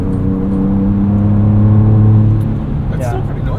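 A Ford Ranger Raptor pickup's engine and exhaust drone and rev loudly in its Baja mode, a sustained rumbling roar that eases off toward the end while people talk over it.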